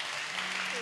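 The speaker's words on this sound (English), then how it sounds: "So with a clap of hands, I want us to welcome," A church congregation claps in welcome, a brief wash of dense hand clapping that fills the room.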